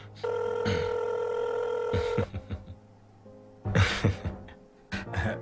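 A telephone rings unanswered with a long, fairly close electronic trill that cuts off abruptly, and then a second, softer ring starts as voices murmur and speak over it.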